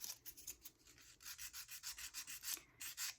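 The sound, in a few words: nail file filing gel off a nail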